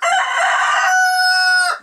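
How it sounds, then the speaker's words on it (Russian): A rooster crows loudly and close by with a long, sustained harmonic call, cut off abruptly near the end; chickens are let out of a coop on a muddy farmyard in March. "Курочки."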